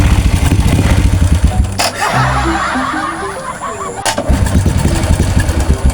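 A Ninja motorcycle engine cranks and catches, going from choppy pulsing to a rising, revving whine before settling back into a rapid idle thrum, with laughter and voices around it.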